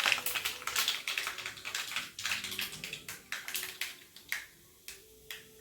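Mustard seeds crackle in hot oil in a pan while semiya upma is being made. Dense, sharp pops come rapidly at first, then thin out into sparser, irregular snaps, close and fairly loud with no talking.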